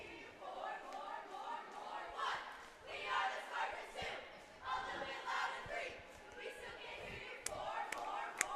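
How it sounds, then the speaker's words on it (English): At a girls high school basketball game, a cheer team chants in rhythmic, group-shouted bursts that build from quiet to louder, echoing in a gym alongside crowd murmur and occasional ball thumps and sneaker squeaks. "Cheer team starting quiet here and building."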